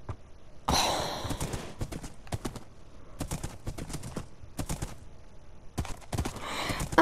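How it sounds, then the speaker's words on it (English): Horse hooves clip-clopping as a horse is ridden in a survival game, irregular clopping steps with a snort or whoosh near the start, fairly close, no talk. "Now, let's get my horsey"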